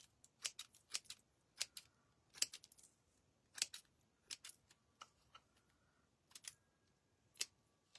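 Scissors snip through craft material while a dollar-store birdhouse is remade, giving a dozen or so sharp, close, fairly quiet cuts in irregular bursts with no talk.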